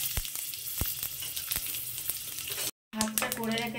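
Spices and green chillies fry for curd rice with a steady, close sizzle in a pan, broken by sharp stirring clicks, a brief silence, and then a faint voice over the crackle.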